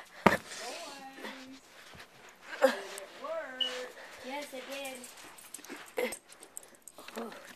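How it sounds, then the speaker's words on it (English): A dog whimpers in high, wavering whines, several drawn-out cries with a few sharp knocks and a voice briefly in between. "Whoa, it's a dog."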